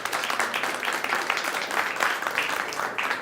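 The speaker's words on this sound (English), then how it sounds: "So give yourselves a big round of applause for being here today." Steady applause from a crowd, dense clapping filling the whole stretch at an even level with no voices standing out.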